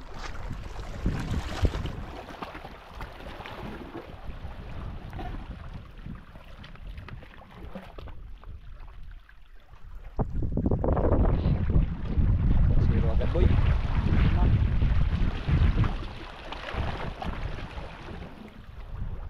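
Strong wind buffets the microphone in a steady rumble, swelling louder midway, with a voice speaking briefly over it in Tagalog.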